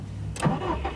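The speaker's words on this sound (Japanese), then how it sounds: "エンジンスタートです。" A Subaru WRX STI VAB starts up close by: a short burst of starter cranking catches quickly and settles into a steady, low idle rumble.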